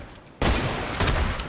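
A loud, sudden burst of rapid gunfire in the video game Fortnite, breaking out after a quiet moment and continuing as sustained, close-range shooting.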